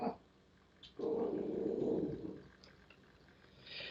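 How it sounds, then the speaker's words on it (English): A dog gives one low, sustained growl lasting about a second and a half, faint and indoors, with quiet room noise before and after. "Stop barking."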